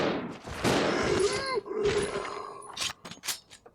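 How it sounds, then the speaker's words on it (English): Gunfire in the Resident Evil Zero video game: several loud sharp shots in quick succession aimed at a zombie, mixed with game groans and noise and close in the mix. "sometimes they won't react to shots"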